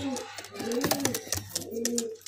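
Cooing from a female pigeon of a high-flyer breed such as Giribaz or Madrasi, kept for sale: soft, low, repeated coos heard close, with someone talking nearby.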